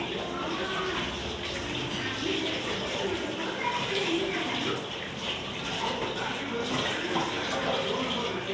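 Tap water runs steadily in a home kitchen while hands are washed, a continuous close splashing gush with no clear pauses.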